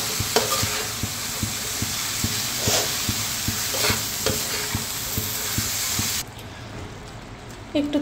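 Soybean curry fried and stirred in a pan: steady sizzling under rhythmic spoon scrapes, with the frying noise dropping away near the end.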